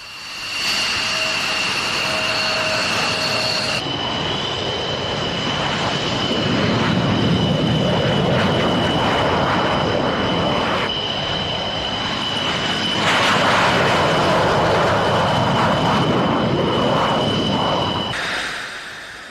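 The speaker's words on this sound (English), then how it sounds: "F-16s from Holland, Belgium and Norway." Military F-16 fighter jets from Holland, Belgium and Norway pass over an airshow, producing a loud, sustained roar with a high whine that builds and shifts as the aircraft fly by, with no talking.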